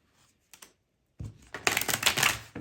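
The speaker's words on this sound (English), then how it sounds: "Let me give these like a good shuffle." A deck of tarot cards is shuffled up close: a couple of brief taps, then a loud, rapid riffling flutter of cards.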